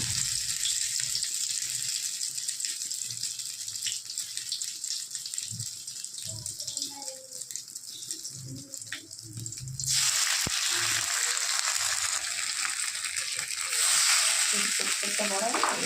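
Taro leaf fritters frying in hot oil over a lowered flame, a steady close sizzle with light stirring, growing louder and brighter partway through as more batter goes in.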